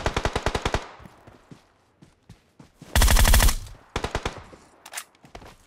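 PUBG Mobile gunfire: a fast burst of automatic shots, then scattered single shots, then a dense, loud sustained volley, followed by more bursts. All of it is close and sharp, with no speech.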